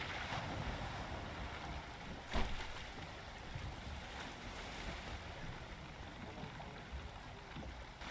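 In the Valheim video game, wind rushes and waves wash steadily while a boat sails at sea, with a soft thump partway through and no voices.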